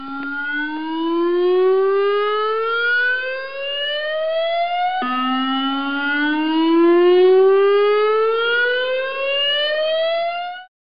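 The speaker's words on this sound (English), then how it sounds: "The siren test consists of 3 minutes of the alert warning" A loud electronic civil defence alert siren sweeps upward in pitch twice, each rising wail restarting low and climbing steadily, sounding alone.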